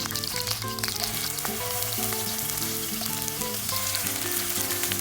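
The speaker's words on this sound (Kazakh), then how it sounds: "Соны табаға майды құйып, қызып тұрған майға осылай қуырып алуымыз қажет." Chicken drumsticks sizzling in hot oil in a pan, a continuous close crackling fry with bright spattering pops and no voices.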